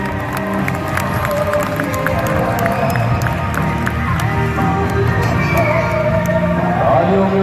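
An audience at a dolphin show in Lahore cheers and claps, a dense continuous crowd roar with scattered sharp claps and children's shouts, loud and close throughout.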